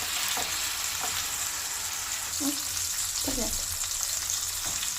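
Bread toast shallow frying in a pan gives a steady close sizzle, broken by a few soft scrapes and taps as it is moved about.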